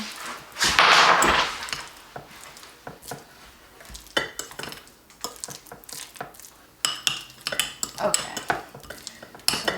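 Ingredients for a healthy three-ingredient cookie being mashed in a bowl, with repeated clinks and scrapes of a utensil against the dish in irregular bursts, and a short spoken word.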